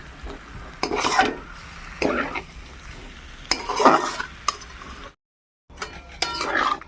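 Spice masala with sour yogurt being stir-fried in a pan, with repeated scraping stirs of a utensil against the metal and a soft sizzle underneath, coming in close rhythmic bursts with a brief silent gap near the end.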